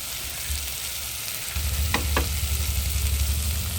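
Tomatoes and onions sauté in a pan with a constant close sizzle that swells partway through, marked by two quick stirring scrapes, alone without voices.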